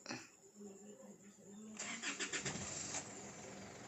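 An Isuzu Altera with hard-starting trouble cranks and catches, settling into a rough, uneven idle with pulsing engine beats, close and moderately loud, with a voice speaking over the start.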